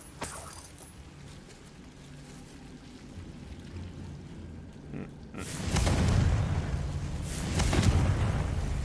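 A Confringo fire spell blasts in Hogwarts Legacy, a loud burst of fiery noise that swells and rolls on for a few seconds after a quieter game-ambience stretch.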